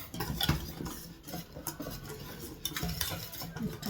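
A spoon stirs flour into quiche dough in a bowl, giving soft irregular scraping and knocking strokes with a few sharper clinks, close and fairly quiet, with no talking.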